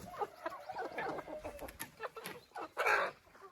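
Hens cluck inside a chicken coop, with a string of short, close calls and a louder burst of clucking near the end. No one speaks.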